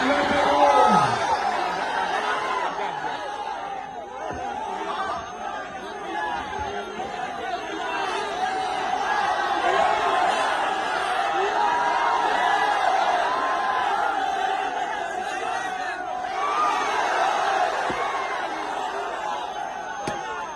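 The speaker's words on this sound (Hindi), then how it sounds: "और तेजस्वी यादव की रैली में भीड़ देखिए" Large crowd at a Tejashwi Yadav political rally: a dense, steady roar of many voices and chatter that fills the whole stretch, with occasional louder shouts rising from the mass.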